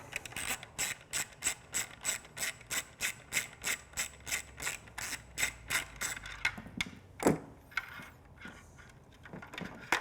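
A hand ratchet with an 8mm socket undoing a screw on a motorcycle taillight mount, clicking in a steady fast rhythm of repeated strokes, close and clear, then slowing to a few scattered clicks.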